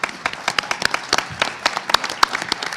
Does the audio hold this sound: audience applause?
yes